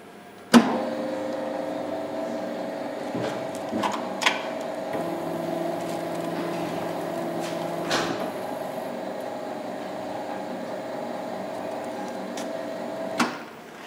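An MDSh-600 tobacco dosing machine runs in mixing mode as it weighs out tobacco, giving a steady mechanical hum with a few sharp clicks and knocks along the way. No one speaks.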